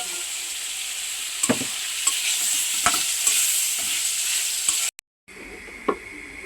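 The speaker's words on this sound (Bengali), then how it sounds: "এই যে আমি আলু দিয়ে আমার ভালো করে কষাই নেব" Potatoes and spices stir-fried in a pan, with a continuous sizzle and repeated scraping knocks of a spatula, briefly cut off before the frying resumes.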